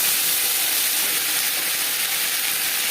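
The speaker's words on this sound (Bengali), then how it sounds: "পাঁচ ফোড়ন তেজপাতা ভেজে নেওয়ার পর দিয়ে দেবো আদা বাটা কাঁচা লঙ্কা বাটা" Ginger and green chili paste, added after panch phoron and bay leaves, hits hot oil in a dense, loud, unbroken sizzle that holds steady from close range.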